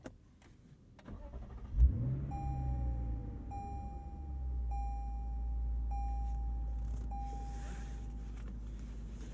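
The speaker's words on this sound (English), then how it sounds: "a hearty starty from that V8" A 2023 Lexus IS 500 V8 cranks and catches with a loud bark, then settles into a deep, steady idle, heard from inside the car with a few soft chimes.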